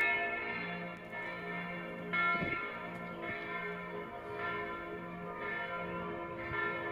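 Church bells peal in Salzburg, a steady, sustained ringing with overlapping tones and repeated strikes that carry on throughout without pause.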